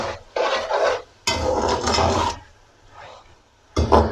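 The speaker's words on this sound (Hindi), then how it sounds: "ये देखें, ये थोड़ा सा इसके भुनाई कर लेंगे" Vegetables for a vegetable pulao are stirred and scraped in a pan, giving bursts of raspy, sizzling scraping that come and go with short pauses.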